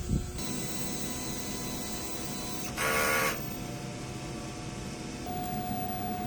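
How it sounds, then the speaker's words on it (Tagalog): Steady mechanical whirring of a DTF printer running a head-cleaning cycle, with a brief louder pump burst midway and a faint tone near the end. "Ganito naman ang tama pag head clean."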